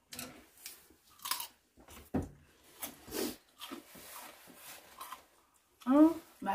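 Someone eats fruit pumpkin porridge up close, with soft wet chewing and slurping in intermittent bursts. Occasional vocal sounds mix in among the bites.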